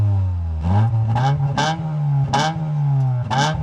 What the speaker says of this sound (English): Let's hear the 2 litre in your Eclipse.